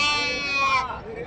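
A young goat bleats once, loud and close, with a wavering cry at a livestock market in Karimangalam, Dharmapuri district. Muffled voices and crowd noise follow underneath.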